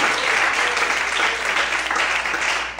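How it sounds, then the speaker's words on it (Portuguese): A church congregation applauds during a Portuguese-language sermon, a dense, steady wash of many hands clapping throughout at close range, with no voices standing out. "Você pode aplaudir o Senhor?"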